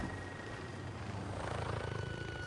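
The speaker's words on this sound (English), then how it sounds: "Excuse me, helicopter, you almost ran me over." Helicopter in Call of Duty: Modern Warfare, a close, steady rotor thump with a rhythmic pulse that grows slightly stronger, heard without talk.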